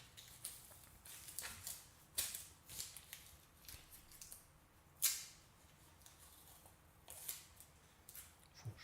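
Faint snips and crinkles of scissors cutting tape, irregular sharp clicks and rustles at low volume with pauses between cuts.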